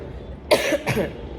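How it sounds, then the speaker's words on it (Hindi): Two harsh coughs in quick succession, close and fairly loud, with no speech around them. "मेरी खांसी कंट्रोल में ही नहीं आ रही है"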